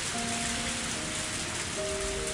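Steady rain falls in the video game Higurashi When They Cry, a dense even hiss of drops on surfaces with no breaks, faint tonal music lines sitting quietly beneath it.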